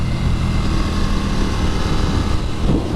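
KTM RC 8C pure race motorcycle engine riding into pit lane, a loud steady broadband roar with a gargling low rumble, close and continuous throughout, no talk.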